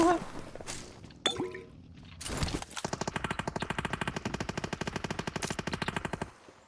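Automatic gunfire in the mobile battle royale game PUBG Mobile, a few scattered shots and clanks followed by a long rapid burst of close, loud rounds lasting several seconds, with a faint voice in the background.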